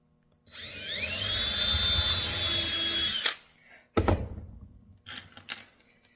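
A power drill drives a screw into wood with a rising, high-pitched whine for about three seconds, followed by a solid thunk and a few knocks and handling sounds.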